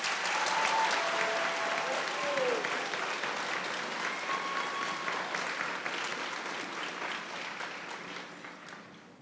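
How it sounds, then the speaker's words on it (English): A graduation audience for the Clarksville High School and Renaissance Academy Class of 2021 claps steadily for honored students, broad sustained applause with scattered whoops that slowly fades. "Please give them a round of applause."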